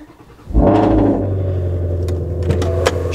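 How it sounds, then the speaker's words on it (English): A Ford Shelby GT350 V8 makes a cold start, cranking briefly before catching with a sudden loud flare, then settling into a deep, steady idle rumble heard close up. "Sometimes the cold startups are hit and miss."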